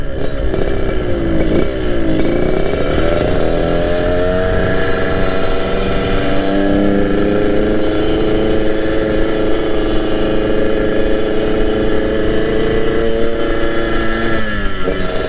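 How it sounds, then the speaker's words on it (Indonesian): A motorcycle with a full stainless steel basic racing exhaust runs close and loud, idling with a steady rumble and shifting pitch in a few short revs, with no talking. "Nah ini knalpot tuh knalpot racing basicnya."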